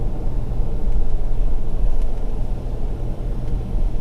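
A car rolls along a beach near the incoming tide, its engine and tyres making a steady low rumble close by, without any talk.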